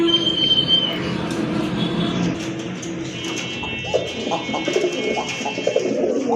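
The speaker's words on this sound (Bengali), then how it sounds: "আরেক জোড়া কবুতর, চিলা কবুতর, অরেঞ্জ চিলা কবুতর, অনেক বড় সাইজের কবুতর।" Large orange Chila pigeons coo steadily in a loft, their low murmuring calls layered with other birds, while a faint rumble suggesting a passing train runs underneath.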